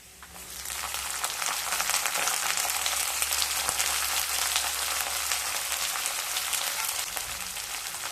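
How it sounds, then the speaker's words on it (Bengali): Chopped onions and garlic frying in a pan for a potato-cabbage bhujia, a dense, even sizzle that rises quickly and crackles steadily like light rain, close and continuous with no talking. "পেঁয়াজ দিয়েও কয়েক সেকেন্ড একটু ভেজে নেব"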